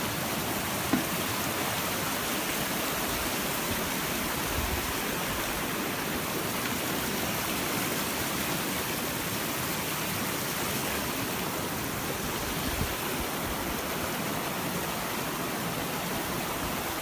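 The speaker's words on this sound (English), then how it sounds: "More of the same waterfall." Steady, full roar of a Lake District waterfall on a cold, gusty walk near Seathwaite, constant broadband rushing water without pause, close and loud, with no voices.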